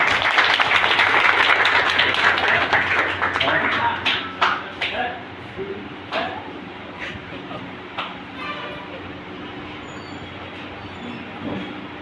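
Audience applause at a World Medical Laboratory Day ceremony: loud, dense clapping for about four seconds, then thinning into scattered claps and a low murmur of voices.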